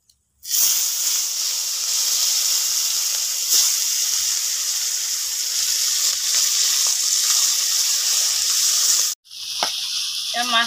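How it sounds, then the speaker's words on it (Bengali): Pieces of rui fish frying in hot mustard oil, a steady close sizzling hiss that holds for most of the stretch, cuts out abruptly near the end, then returns. "বাকি মাছকে ভেজে নেব"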